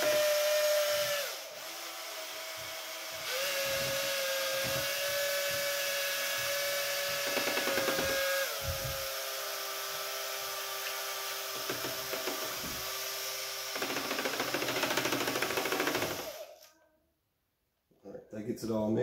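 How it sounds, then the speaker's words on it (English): An electric drill fitted with a mixer paddle stirs mead made from 15 pounds of honey in a 5-gallon bucket, giving a steady high motor whine that shifts pitch several times before cutting off near the end. "And this is my handy dandy mixer of mine."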